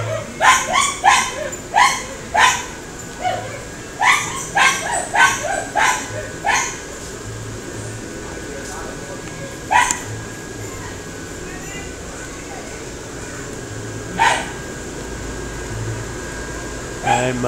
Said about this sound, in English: Somebody doesn't sound too happy in the dog grooming shop.